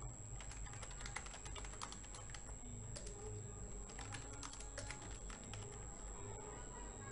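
Computer keyboard typing while entering text in Photoshop CS6: a steady run of quick close key clicks over a constant background hum, with no speech.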